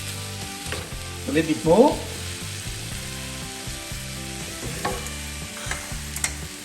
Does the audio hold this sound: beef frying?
yes